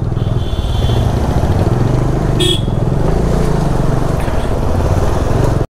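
A Bajaj Dominar 400 motorcycle threads through a kilometre-long traffic jam near Hyderabad, its engine droning steadily and close throughout, with surrounding traffic noise and a short, sharp horn toot midway.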